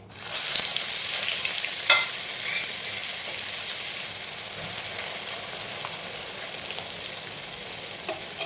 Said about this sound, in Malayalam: സോയ ചങ്ക്സ് ഫ്രൈ ചെയ്തെടുക്കാനായിട്ട് ഒരു പാൻ വെച്ച് കുറച്ച് എണ്ണ ഒഴിച്ച് കൊടുത്തിട്ടുണ്ട്.